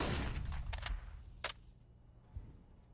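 Gunfire in Counter-Strike on the map de_mirage: a quick burst of sharp shots at the start, then a couple of isolated cracks, fairly quiet and without talk.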